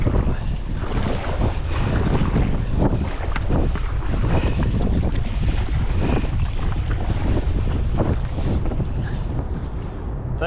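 Strong wind buffets the microphone while waves slosh and splash around an Advanced Elements AirFusion inflatable sea kayak, a loud continuous roar with no voices.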